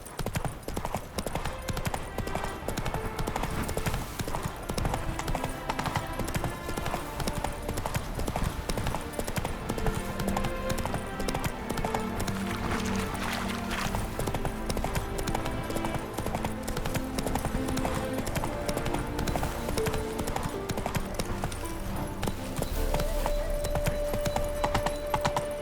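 Roach the horse gallops in The Witcher 3 video game, a steady rapid clip-clop of hooves running continuously under a bed of game music, with an occasional faint whinny.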